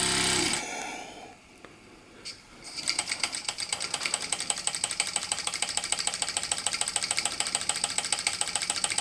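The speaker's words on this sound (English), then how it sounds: "Engine's racing." A Mamod Centurion live steam traction engine races while driving a Baker fan, its rapid, even chuffing beat settling into a fast steady rhythm after a brief quieter start, close and prominent with no talk.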